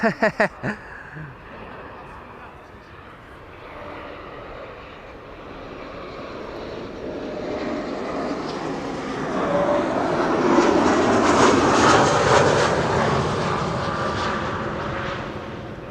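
An Embraer 190 airliner arriving from Bristol at Amsterdam Schiphol, its jet engine roar building from a distance to a loud broad whine near the end, after a few brief clicks at the start.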